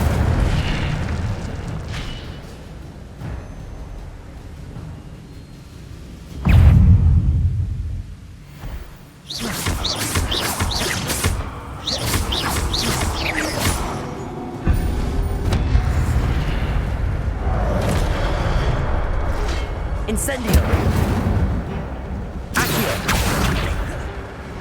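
Incendio fire spells in Hogwarts Legacy go off in a run of loud whooshing bursts and booms with crackling tails. The blasts come in clusters over continuous game noise, and nobody speaks.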